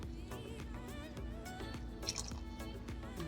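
A capful of apple cider vinegar goes into a pot of collard greens with smoked neck bones, making a faint, quiet trickle and a few soft drips close by.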